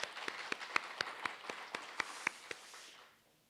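Sparse, steady hand clapping in a church worship service, with a dozen or so distinct claps in an even rhythm, fading out at the end.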